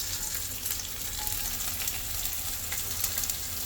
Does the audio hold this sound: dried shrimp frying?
yes